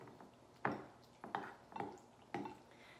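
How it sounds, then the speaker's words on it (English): Dry and wet ingredients being mixed together in a bowl, a handful of soft knocks and scrapes of the utensil against the bowl in an irregular rhythm, fairly faint. "So once our dry and our wet ingredients have been combined, we're gonna mix them together"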